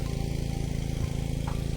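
A small water pump engine runs steadily nearby at night with a regular, throbbing mechanical chug, constant and unbroken throughout.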